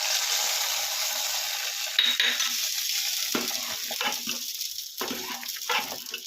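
A pot of wheat huggi sizzles and bubbles steadily while ghee-roasted cashews go in and a spoon stirs, scraping and knocking against the pan in several distinct strokes.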